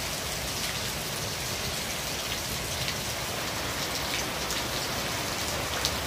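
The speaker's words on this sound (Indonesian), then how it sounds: "Suara hujan seperti musik klasik yang sangat enak didengar." Steady, dense rainfall at night pours evenly on surfaces with constant hiss and patter, close and continuous with no voices.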